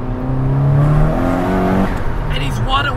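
A 90s JDM car engine revs up and settles, its tone climbing and then easing off in one smooth pull, close and fairly loud, with someone talking over it.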